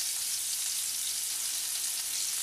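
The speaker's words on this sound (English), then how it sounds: "We're going to saute these for about 4 minutes" Onion, celery and green pepper saute in hot butter in a skillet, giving a steady, close, even sizzle that holds at the same level throughout with no voices.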